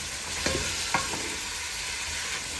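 Tomatoes cook in a pan with a broad, even sizzle throughout, broken by two quick stirring scrapes near the start. No one speaks.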